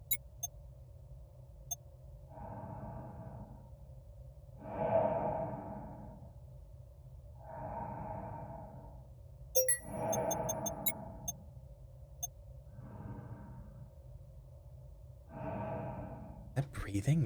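Rhythmic breathing in the space video game Voyager-19: six slow, evenly spaced breaths over a low ambient drone, with faint ticking and beeps scattered between.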